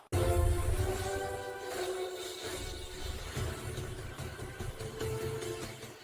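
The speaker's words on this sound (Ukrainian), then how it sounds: "двигун працює добре, як молодий" A repaired car engine, its mass air flow sensor connector reattached, runs steadily with a continuous mid-frequency hum and low rumble, loud and close throughout, with no talk.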